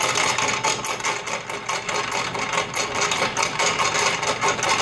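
An Enterprise No. 50 grist mill, driven by a motor, grinds feed-grade whole wheat with a rapid, steady clattering rhythm, close and fairly loud, with no talk.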